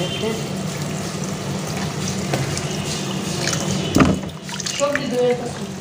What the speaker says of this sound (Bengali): আর এগুলো ধুয়ে নেওয়া হচ্ছে ধুয়ে নিলে ভালো পেঁপেটাকে ধুয়ে